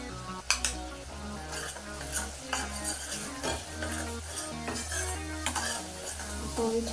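A spice masala for Kolhapuri chicken curry is stirred and sautéed in oil in a pan. A spoon scrapes steadily through a continuous sizzle, with occasional sharper clinks against the pan and a constant tonal background throughout.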